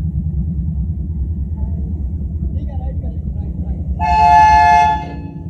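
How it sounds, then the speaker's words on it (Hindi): The Ghauri Express, hauled by locomotive AGE30 6015, departs Faisalabad with a low rumbling diesel throb, then sounds one loud horn blast lasting about a second near the end. "गौरी एक्सप्रेस डिपार्चर हो रही है फैसलाबाद से।"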